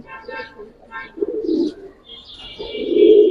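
A female Giribaz pigeon in a loft gives low, soft cooing calls in short bursts, close by, mixed with a few faint chirps and some background sound.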